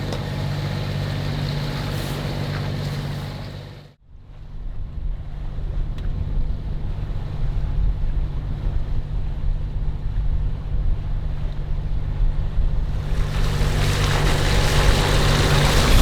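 A sailboat under way along the North Zealand coast, with steady strong wind roaring across the microphone and the rush of water against the hull, a brief dip in the noise before the gusts build again.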